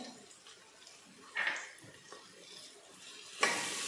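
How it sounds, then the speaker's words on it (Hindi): Pav bhaji masala being stirred into a pan of vegetable bhaji for five or six people, with a spoon scraping and clinking against the pan in a few scattered strokes amid soft kitchen noise. "मसाला छान मिक्स करून घेते।"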